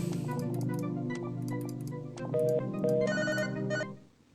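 An incoming-call phone ringtone plays a bright, repeating melodic pattern of chiming notes, loud and close, then cuts off at the end.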